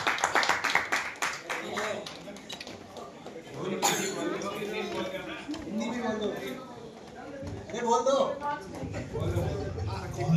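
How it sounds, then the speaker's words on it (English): A small family gathering celebrating a cousin's PhD claps for the mother. A short burst of close clapping opens the moment, then gives way to overlapping chatter and talk. "A round of applause for the mom. Loud."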